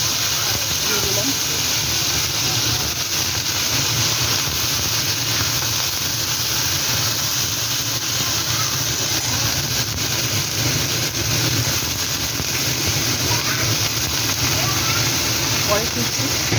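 Pumpkin and vegetables sizzle and hiss steadily in a pan with dried and green chilies and black cumin, a continuous close frying sound with faint stirring and talk underneath.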